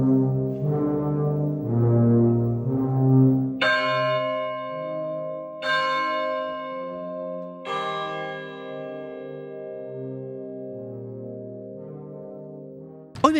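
A percussionist strikes a large bell several times, each ringing stroke swelling out and decaying slowly over deep sustained tones, then fading toward the end.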